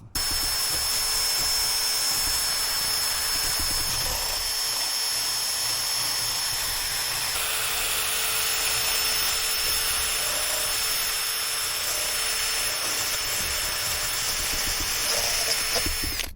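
A rotary tool fitted with a grinding wheel runs steadily against a deer skull cap, giving a continuous high-pitched whine with a broad grinding hiss that stays close and loud throughout.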